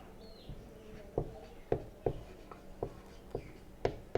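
Chalk or marker writing on a board in a classroom: a series of short, sharp taps and strokes at an uneven pace, fairly close, with no talking.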